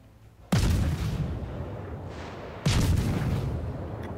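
Two heavy naval gun salvos boom out from a warship in World of Warships, the Japanese destroyer Shimakaze, in a naval battle game; each blast is loud and close with a long rumbling tail, the second about two seconds after the first.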